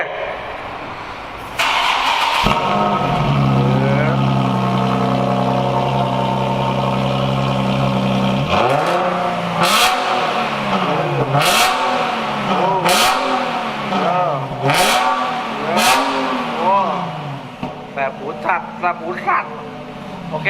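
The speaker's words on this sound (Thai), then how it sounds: "ฟังเสียงรถกันหน่อยไหม" A Nissan 370Z engine turns over and settles into a loud idle. It then revs repeatedly in rhythmic bursts, each rising and falling back, close by.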